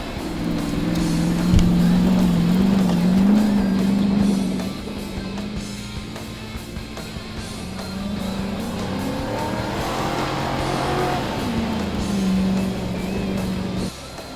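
Chevy and Ford cop cars, a Caprice among them, drive nearby with a loud engine drone that rises and falls as they accelerate and pass, fading briefly before building again.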